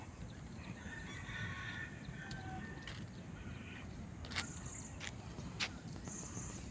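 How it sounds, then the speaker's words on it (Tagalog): Chickens roam a Singapore park, their faint, distant crowing and clucking drifting over a low outdoor hush, with a few sharp clicks punctuating the quiet. "Maraming manok talaga rito guys."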